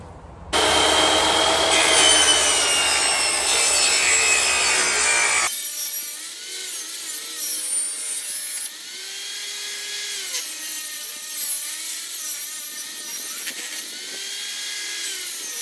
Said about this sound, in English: We'll rip the slats down to 1 inch approximately.